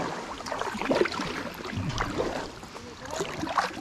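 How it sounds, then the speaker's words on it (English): A solo kayak is paddled on open water, with soft irregular splashes and drips from the paddle strokes under light wind, close and quiet with no talking. "I just got to paddle twice as much on the right-hand side as I do on the left."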